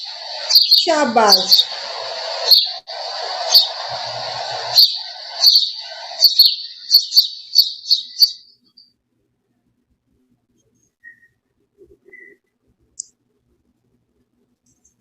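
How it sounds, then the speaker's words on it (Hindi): Bird chirps repeat in quick bursts for about eight seconds, bright and close, with a spoken word partway through; a long stretch of near-silence follows, broken only by a few faint ticks. "किसकी आवाज है? चिड़िया की।"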